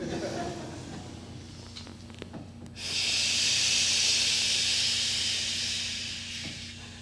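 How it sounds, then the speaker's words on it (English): An audience in a symposium hall breathes out together on a long shh, a broad steady hiss that swells in after a short pause and slowly fades over several seconds. "Inhale with me. Out on shh, shh."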